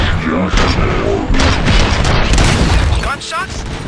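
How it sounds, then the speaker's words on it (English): Gunfire and booming impacts in the Robocop video game, loud bursts and crashes layered under in-game voices speaking. "Gunshots? What's going on?"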